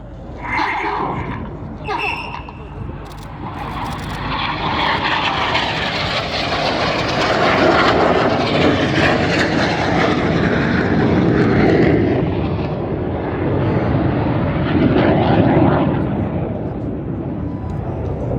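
Red Arrows RAF jets fly a high-speed crossing display manoeuvre at the Gdynia Aerobaltic 2021 airshow, making a loud, sustained roar that swells and rolls overhead, with an announcer's voice talking beneath it.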